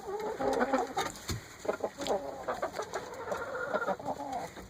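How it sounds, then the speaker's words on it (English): Rhode Island Red chickens cluck and murmur in a yard, with several short, close clucks and soft calls overlapping at an uneven rhythm amid light background noise. "that chicken is a Rhode Island red chicken"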